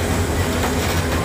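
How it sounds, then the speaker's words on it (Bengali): A train locomotive engine arrives on a rail line near Dhaka, a loud, close, rumbling roar with a rattling metallic undertone, continuous and heavy with no voices. "ইঞ্জিলটা মাত্র আসছে"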